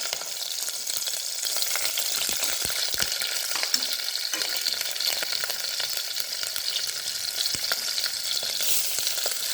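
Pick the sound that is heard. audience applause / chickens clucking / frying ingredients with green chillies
frying ingredients with green chillies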